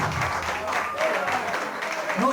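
Audience at a live comedy show in a restaurant during a baptism party clapping steadily throughout, with a voice talking over the applause.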